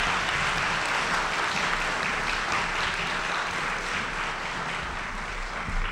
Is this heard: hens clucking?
no